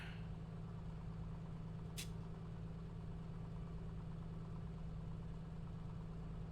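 Steady low drone of a light aircraft engine idling while taxiing in a flight simulator game, a constant hum with a brief faint high tick partway through, no talking.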